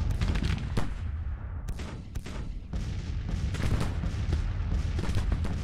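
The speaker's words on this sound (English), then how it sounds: "Our own artillery is in action." Napoleon cannons of an artillery battery fire in a Grand Tactician Civil War battle: repeated heavy booming shots, some close together, over a constant rumbling battlefield din.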